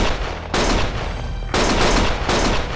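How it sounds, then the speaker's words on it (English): Loud bursts of gunfire from the video game Lost Judgment, dense rapid volleys in three stretches separated by brief lulls of lighter shooting, close and continuous with no talk. "Stop shooting!"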